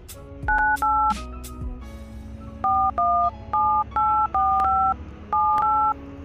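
Touch-tone keypad beeps on a Nepal Telecom mobile phone dialing a USSD code, about a dozen short, clear tones in quick, uneven clusters with brief pauses between them, close and alone.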